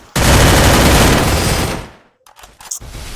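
Automatic gunfire in a shooting video game blasts out in one loud, sustained rapid burst for about two seconds, then cuts off into a few scattered quieter clicks and thumps.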